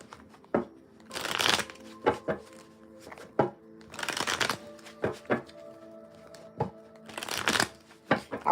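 Tarot cards being shuffled in repeated bursts of riffling and tapping, close and fairly loud, with no talking.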